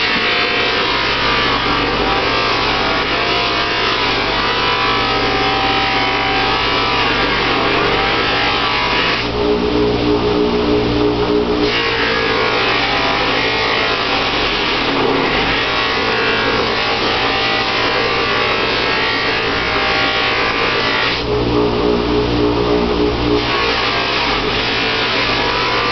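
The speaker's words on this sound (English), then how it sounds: "I'm going to go to my loose cotton wheel, my larger wheel, give it a little of the high gloss rouge" A buffing machine running a large loose cotton wheel charged with high gloss rouge on metal, a loud continuous motor whir with a few surges as the workpiece presses against the spinning wheel.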